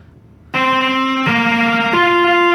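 Electric guitar finger tapping, two exercises alternated slowly: three sustained, distorted harmonic-rich notes changing pitch at steady intervals, loud and close, alone after a brief quiet start.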